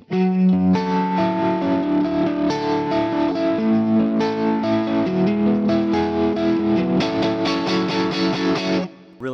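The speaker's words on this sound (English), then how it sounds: "nice vintage types, tremolo." Guitar chords through a vintage-style tremolo on a Fractal FM9 with an AC20 amp model, volume throbbing rhythmically as the notes ring out clearly and loudly for several seconds.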